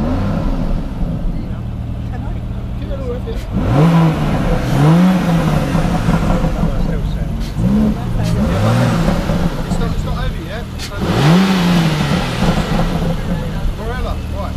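A classic car at a car show revs its engine in several loud, close bursts that climb and fall, separated by a steady idle, while people talk nearby.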